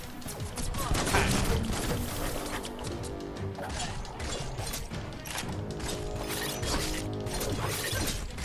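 Dense, continuous gunfire in the video game Biomutant: rapid bursts of shots crackle and clatter nonstop with metallic rattles and crashes mixed in, loud and close throughout.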